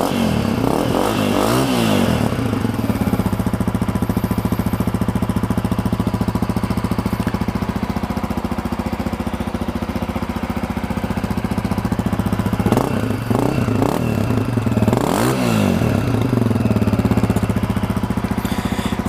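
A stock-exhausted 2020 Honda CRF 250F dirt bike engine runs loud and steady, with two bursts of sharp throttle revving near the start and again late on, over a continuous rough idle.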